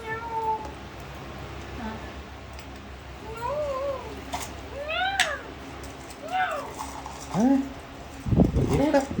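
A person imitates a cat's meow several times, with rising and falling mewing calls spread across the clip, fairly close and moderately loud over a quiet indoor background.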